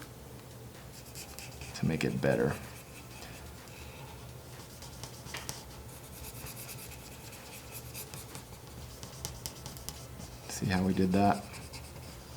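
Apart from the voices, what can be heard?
coloring with a white colored pencil on paper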